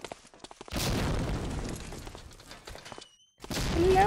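A grenade in a shooter video game goes off as a loud, broad boom that rumbles on for a couple of seconds, then drops away. A second heavy blast begins as the clip ends.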